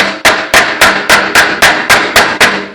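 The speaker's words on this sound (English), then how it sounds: "would hammer right along the crease" Ten sharp hammer blows strike sheet metal along a crease during a quarter panel repair, evenly spaced about a third of a second apart, each a loud, ringing metallic clang that decays before the next hit, with no talking.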